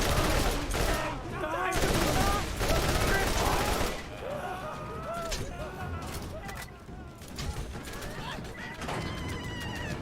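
Enemy gunfire in Borderlands 1: loud rapid bursts of automatic shooting, dense at first and then thinning to scattered shots over a busy game soundscape, with a voice talking throughout.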